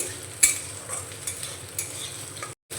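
Semolina manchurian mixture stirred in a pan over low to medium gas flame, a gentle sizzle with occasional spatula scrapes and a sharp clink, ending in a brief cut to silence.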